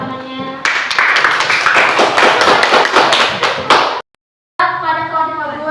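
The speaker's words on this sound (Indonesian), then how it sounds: "Beri tepuk tangannya." Pupils in a classroom burst into loud, rapid clapping for a few seconds. The applause stops abruptly, and after a short silence a voice carries on.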